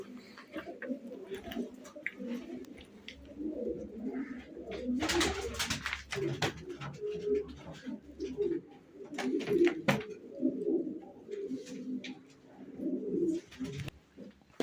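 Dumanlı Gök pigeons coo in a repeated, soft burbling chorus close by, with scattered wing flaps and faint background noise; someone speaks briefly between the calls.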